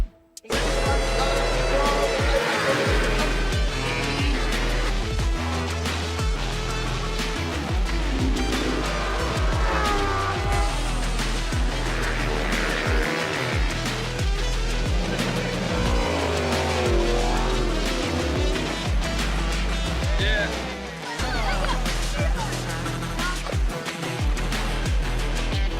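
Lamborghini Super Trofeo race cars launching at a race start at The Bend Motorsport Park, a loud dense pack of revving, accelerating engines with gear changes, continuous and close, with commentary over it.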